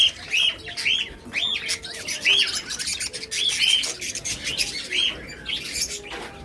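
A flock of budgerigars chirps close by at a bird seller's, a busy run of bright, warbling calls that come in quick repeated bursts with soft background rustle.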